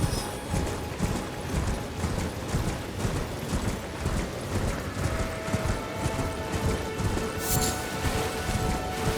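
Hooves of a horse ridden in the Elden Ring video game clip-clop in a steady galloping rhythm, mixed with rain-like patter and game ambience, with no speech.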